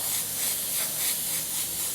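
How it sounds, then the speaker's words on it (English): A continuous close airbrush hiss, fine and airy, swelling gently a few times as paint is sprayed onto white paper, with no voices. "I'll spray it on a white bit of paper"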